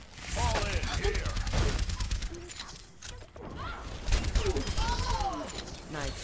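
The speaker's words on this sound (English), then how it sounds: "Nice shooting, Jack." Gunfire and explosive impacts in an Overwatch match, with rapid crackling volleys and crashes under steady team voice chat and game character lines.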